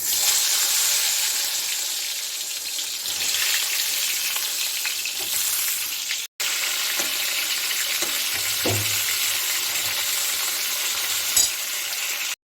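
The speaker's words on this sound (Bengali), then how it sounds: "এখন এই পটলগুলোকে আমি সর্ষার তেলে ভেজে নিচ্ছি" Pointed gourd (potol) pieces sizzle loudly and continuously in hot mustard oil, with a brief cut partway through and a soft thud or scrape of stirring near the end.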